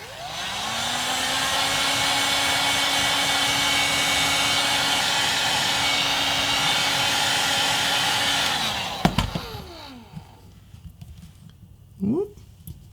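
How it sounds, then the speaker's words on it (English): A heat gun warms a plastic prop part with a loud, steady blowing roar and whine that rises in pitch at start-up, runs about eight seconds, then cuts off, followed by clicks, handling noise and a short vocal sound. "If you're doing this yourself and you're not used to using a heat gun, it gets very hot, maybe wear gloves."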